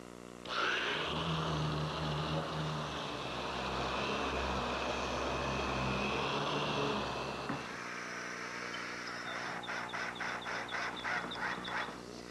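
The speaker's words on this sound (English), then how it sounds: "now it's just a matter of sanding the whole top smooth with my random orbit sander" A random orbit sander with 100-grit paper smooths a soft pine table top, a loud, steady whine lasting about seven seconds that drops to a quieter rattling hum.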